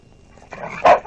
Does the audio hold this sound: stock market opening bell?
no